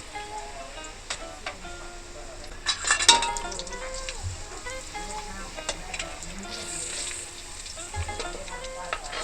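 Asafoetida, chopped green chili and onion frying in hot oil in a pan, a steady low sizzle throughout with a few sharp clinks of a utensil against the pan near the middle; a voice talks faintly over it.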